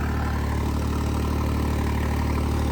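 A Mahindra 3630 tractor engine runs close by in a loud, constant diesel throb, unchanging for the whole stretch with nothing else audible.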